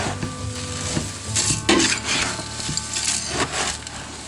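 Pieces of dried apple are tossed and stirred together with spices for a rum grog mix, making dry rustling, scraping and light rattling knocks in quick irregular bursts, close and fairly clear.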